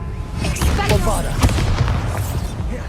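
Bombarda explosion spell in Hogwarts Legacy, a loud, deep booming blast that rumbles on with heavy low-end and crackling debris for a few seconds, close and continuous.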